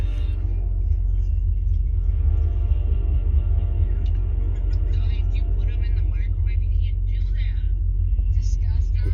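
Heavy train rolling past on a track right beside a parked vehicle at night, a loud continuous low rumble that holds steady throughout, with people talking over it.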